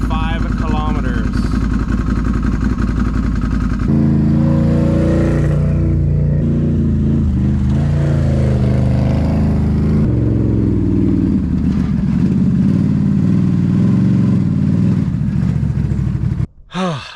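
A Renegade's engine idles and revs at close range while the vehicle is driven, with low rumbling tones shifting in pitch and a sharp cutoff near the end.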